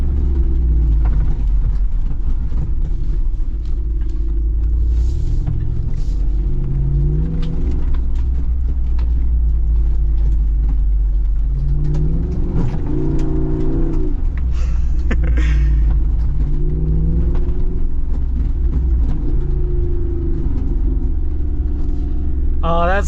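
A modified Jeep Wrangler Rubicon 392 drives and drifts, its deep engine rumble steady and loud throughout with rising revs, while people talk over it.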